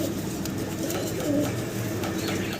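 Fancy short-face pigeons, red and yellow birds kept in a cage, cooing in low rolling calls close by over a continuous murmur of background noise, with no clear talk.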